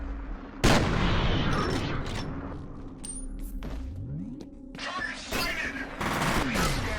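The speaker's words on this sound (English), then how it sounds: "Can you hear a load of shooting ahead?" Gunfire rattles in the shooter game F.E.A.R. Loud bursts of shots and sustained rapid fire come from the combat, mixed with rumbling, whooshing game effects and some talk.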